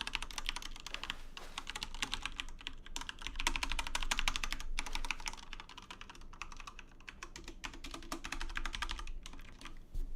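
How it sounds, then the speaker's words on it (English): Keys on a computer keyboard are pressed rapidly and steadily while playing The Stanley Parable, a dense, continuous clatter of typing heard close and fairly quiet, with no talking. "Pretty much pressed every single button on the keyboard."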